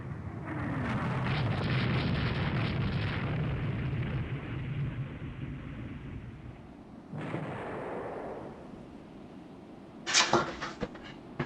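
Naval guns in Rule the Waves 3 fire during a warship battle: a long, rumbling boom swells and decays, a second blast follows, then a cluster of sharp cracks near the end, heavy and resonant with no speech.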